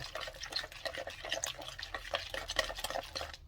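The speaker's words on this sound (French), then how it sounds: "Vous remuez tout ça." Eggs, potatoes and onions for an omelette being stirred in a pan, a busy close run of wet scraping and clinking strokes in quick uneven rhythm, no one talking.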